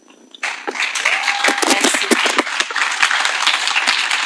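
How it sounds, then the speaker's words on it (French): An audience applauds after a slam poem performance, with a burst of dense clapping starting abruptly and continuing steadily, sharp individual claps standing out in the mix. "Des applaudissements encore et encore et encore."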